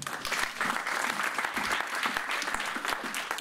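A church congregation applauding, steady, dense clapping from many hands with no pause, fairly close and even in loudness across the short stretch.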